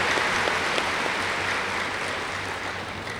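Audience at a spiritual class clapping steadily throughout, a dense, even patter of many hands in a hall without spoken words over it.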